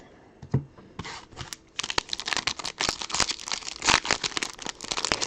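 A foil trading card pack wrapper for baseball cards is torn open close up, a run of sharp ripping and crinkling bursts with short pauses, growing denser and louder toward the end, no talking.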